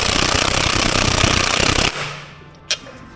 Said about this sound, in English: This is our snap-on impact gun, right? There aren't many things we come across that this won't undo.